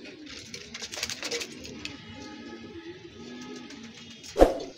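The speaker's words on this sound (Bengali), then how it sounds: "আর এখানে এগুলো সব লাগানো কবুতর।" Pigeons kept in a loft coo in low, rolling phrases close by. Fluttering and rustling come in bursts, and one sharp thump or flap sounds near the end.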